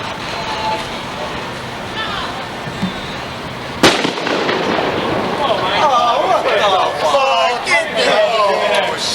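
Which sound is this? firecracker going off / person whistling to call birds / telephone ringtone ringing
firecracker going off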